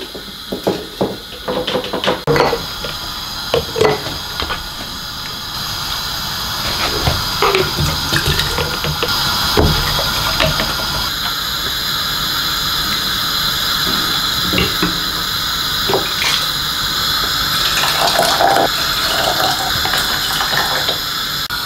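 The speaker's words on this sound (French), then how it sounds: "on va verser notre préparation dans les bocaux" Kangaroo stew being poured through a wide funnel into preserving jars, with irregular knocks and clinks of utensils and glass at first, then a sustained wet pouring and gushing sound, close and fairly loud.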